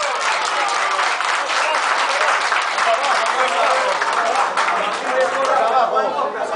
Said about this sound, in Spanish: Pido un fuerte aplauso para él.